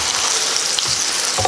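Italian sausage and mushrooms fry in a pan, a loud, close, continuous sizzle with a few scraping stir sounds near the end.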